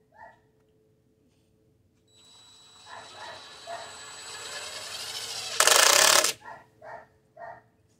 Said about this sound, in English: then you can drill the rest of the hole.